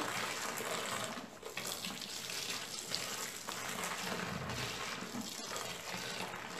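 Liquid pours steadily into a homemade perfumed soap and bleach mixture, a continuous close splashing gush of water that stays fairly even throughout, with faint background noise.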